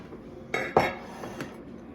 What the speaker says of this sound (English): let me bring the pan over